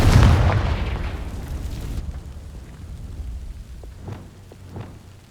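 A Confringo fire spell in Hogwarts Legacy bursts loudly at the start against dry vines, a heavy booming blast that fades over two seconds into faint crackles and small pops.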